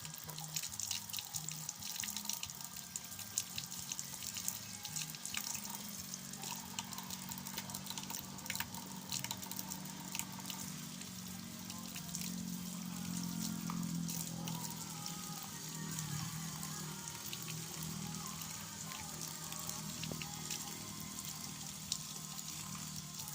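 Catfish being rinsed for Lao-style soup under running water from a tap, a steady splashing wash with sink sounds and occasional drips, continuous and close throughout.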